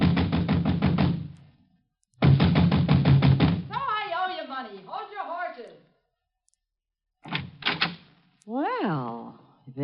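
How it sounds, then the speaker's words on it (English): Rapid, sharp knocking on a door in an old radio drama, two bursts of hard repeated blows separated by a pause, then a third shorter flurry, with people speaking between the bursts. "I was soon banging on a door there like a drummer playing Bob."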